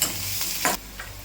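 Onions fry in a pan while being stirred, giving a soft, steady sizzle broken by a few short scraping strokes of a spoon, heard close and fairly quiet.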